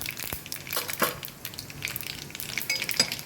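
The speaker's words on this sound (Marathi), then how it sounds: "मोहरीनं डान्स सुरू केलेला आहे" Mustard seeds spluttering in hot oil in a pan while cooking masala puranpoli and spicy amti, crackling and popping in quick, irregular bursts up close.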